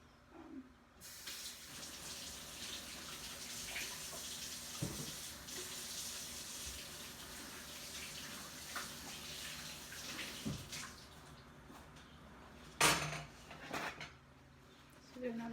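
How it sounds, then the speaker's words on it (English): Hands being washed under a running tap at a kitchen sink while making meatloaf, a steady rush of water for most of the stretch with a few clinks and a louder splash near the end, close by with no talk. "So now that I've washed my hands for the second time"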